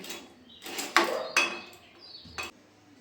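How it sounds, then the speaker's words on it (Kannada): Silver anklets, freshly cleaned, are dropped into a bowl, giving a few close, bright metallic clinks and jingles in separate bursts, with no talking. "ಇವಾಗ ಒಂದು ಬೌಲ್ಗೆ ಹಾಕ್ತಾಯಿದ್ದೀನಿ"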